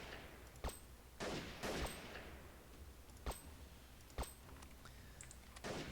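Several sharp gunshots in a guerrilla-warfare video game, a city siege: scattered single pops and short bursts, some near and loud, others fainter, over a steady low background rumble.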